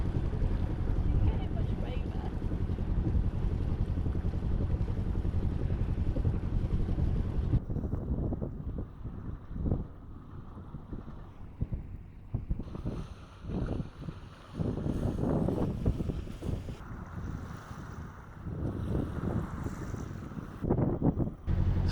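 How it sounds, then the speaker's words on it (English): Boat engines idle and warm up before departing Loch Spelve, a steady low rumble mixed with gusty wind noise on the microphone, and people talking intermittently. "as you can hear, engines warming up. We're getting ready to leave."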